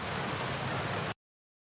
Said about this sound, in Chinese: 第一种呢就是将这里的下雨声这个音效准备了